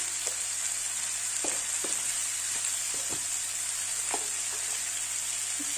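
Turmeric and salt frying in a pan for a pumpkin-greens and crab dish, giving a steady close sizzle with scattered scraping and clicking strokes as the mixture is stirred throughout.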